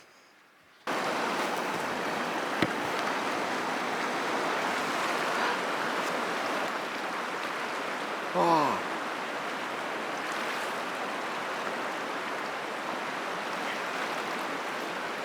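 River water in the Norwegian wilderness rushes steadily and loudly, a dense broadband flow that starts abruptly and continues throughout, with a brief splash or voice-like sound partway through.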